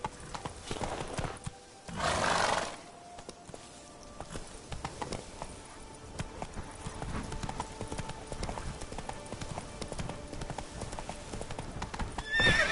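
Roach, a horse in The Witcher 3, gallops in rhythmic hoofbeats with a clear whinny near the start, the clip-clop continuing steadily and fairly close over a soft game backdrop, without speech.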